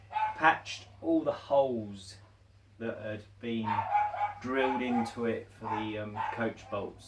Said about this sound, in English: I'm really sorry about the dog next door